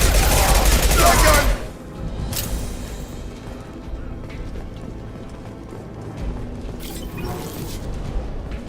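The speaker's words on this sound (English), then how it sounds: "Shotgun." Shotgun blasts from the video game Mass Effect 2, a loud burst of booming gunfire in the opening second and a half, then lighter combat sounds and a few sharp hits over a steady game background.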